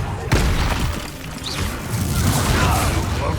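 A Bombarda blasting spell explodes in Hogwarts Legacy, a sharp burst followed by rumbling debris and mechanical clatter that rolls on for a few seconds.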